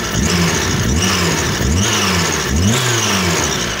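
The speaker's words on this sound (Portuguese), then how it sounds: "Vou estar acelerando o carro," Car engine revved repeatedly during a spark plug check, several rising surges of throttle with quick drops back toward idle, loud and close, no talking.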